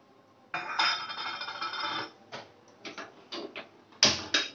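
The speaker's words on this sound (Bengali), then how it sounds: "এবার আমি গ্যাসটা ধরিয়ে দিচ্ছি।" A gas stove is lit in a home kitchen: a burst of metallic clicking and rattling, followed by several short, sharp clicks and a louder final snap, close and fairly loud, with no voices.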